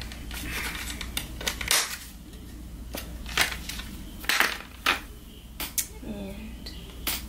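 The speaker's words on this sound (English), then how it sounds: "So you take your crawl, get it out of the packaging." Crinkly plastic packaging rustles and crackles up close as a soft plastic Rage Craw fishing lure is pulled free, a string of sharp crunchy bursts with brief pauses between.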